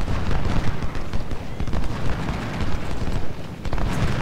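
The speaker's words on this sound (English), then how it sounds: "Those cannons are killer." Dense, continuous battlefield barrage of cannon and artillery fire in the Ultimate General: Civil War game, South Mountain battle, with overlapping booms and crackling gunfire sustained loudly throughout.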